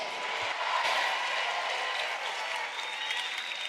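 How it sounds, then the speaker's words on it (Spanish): A church congregation applauds during a worship service, a steady, dense wash of clapping that holds at even loudness throughout with no break or talk over it. "Un aplauso al Señor."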